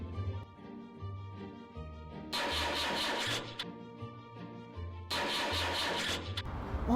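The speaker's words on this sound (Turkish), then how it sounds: "Şimdi de arabayı çalıştıramıyor Nisa." Car engine cranking in a game with a Talking Tom character whose driver has forgotten to release the handbrake, two loud bursts of starter grinding over a looping musical backdrop, each lasting about a second before cutting off.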